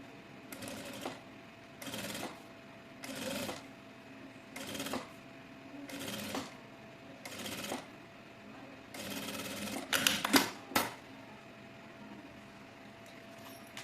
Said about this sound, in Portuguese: Nós vamos costurando e fazendo esse formato arredondado aqui, certo?